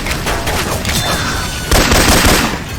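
Loud, continuous automatic gunfire in Left 4 Dead 2 using Syphon Filter weapon sounds, a dense volley with a heavier burst of shots in the second half.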